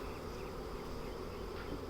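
Honeybees hum around a wooden beehive on a farm, a steady soft drone of many wings with no breaks and nothing else over it.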